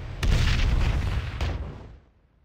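Heavy cannon fire on a ship deck in World of Warcraft: Legion, a loud booming barrage with sharp blasts that rumbles steadily for about two seconds, then fades.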